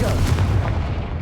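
A Confringo spell explosion in Hogwarts Legacy lands as a loud, deep, booming blast that rumbles and fades over about a second.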